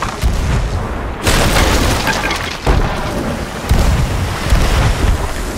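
Cannon fire aboard a ship in the pirate video game Sea of Thieves, several heavy booming blasts spaced roughly a second apart, loud and close, with no talking over them.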